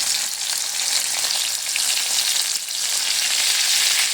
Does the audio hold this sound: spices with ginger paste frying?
yes